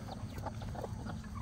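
Several hens cluck softly and repeatedly close by, short overlapping calls over a faint background hum.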